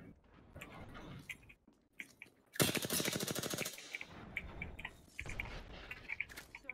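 Gunfire in the video game Apex Legends, a rapid burst of automatic fire lasting over a second, set among scattered smaller shots and clicks of a fight nearby.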